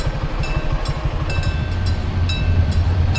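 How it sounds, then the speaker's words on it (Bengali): A local train passes close by near Belai Bil in Gazipur, Bangladesh, loud wheels thudding rhythmically over rail joints, then settling into a droning engine rumble with faint squeaks, with no voices. "এই যে এদিক থেকে ট্রেন চলে আসছে।"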